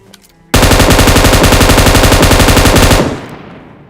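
An M249 machine gun fires in a video game in one loud, unbroken automatic burst of about two and a half seconds, ending in a fading echo.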